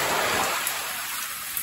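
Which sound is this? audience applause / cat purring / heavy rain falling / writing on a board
heavy rain falling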